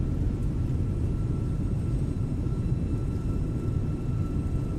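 Airbus A320 thrust reversers roaring during the landing roll at New Orleans in a flight simulator, a steady, moderate broadband rumble with no talk.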